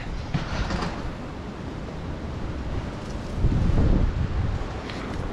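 Strong wind gusting outdoors and buffeting the microphone, a continuous broadband roar that swells louder toward the end, with no talking.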